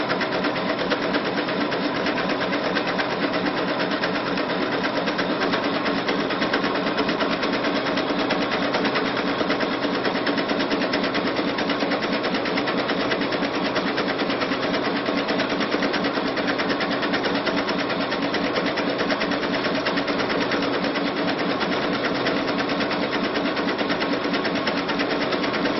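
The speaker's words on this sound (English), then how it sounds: "you can see how the machine moves the fabric. It's literally hands-free." A sewing machine fitted with a circular tool stitches fabric, a fast continuous mechanical chatter at an even rhythm, close and steady throughout with no talking.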